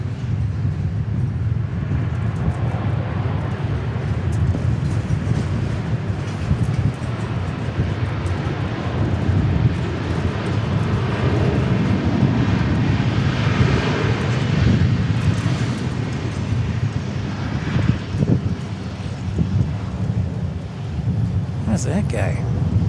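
A Southwest Airlines jet arriving from Pensacola at Dallas Love Field produces a loud, sustained engine roar that swells and rumbles, while people talk over it.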